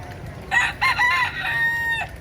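A rooster in Key West, Florida crows once nearby, a loud drawn-out call rising then trailing off, with quiet background hum and no talking.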